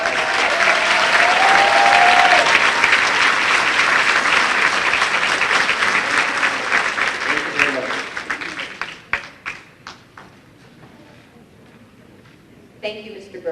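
An audience claps loudly at a school moving-up ceremony, a dense sustained round of applause that thins into scattered claps and fades out near the end.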